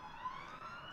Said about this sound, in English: I really am so sorry about all the sirens.